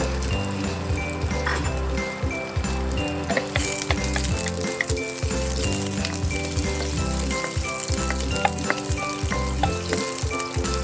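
Pork balls and sausages fry in a pan, a continuous close sizzle and crackle with light clinks of utensils against the pan.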